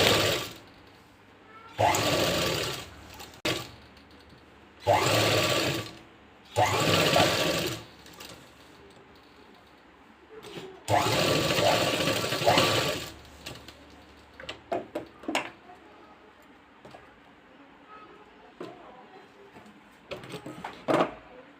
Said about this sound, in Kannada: ಈಗ ಸ್ಟಿಚಿಂಗ್ ಸ್ಟಾರ್ಟ್ ಮಾಡೋಣ.